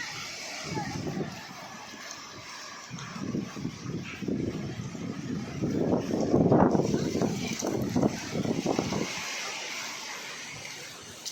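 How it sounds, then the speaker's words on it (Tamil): Strong wind on the Parvathamalai hilltop near Tiruvannamalai buffets the microphone in gusty roaring waves that build and fade, with a person talking underneath. "இங்கே பாருங்கள் சூப்பர் காற்று."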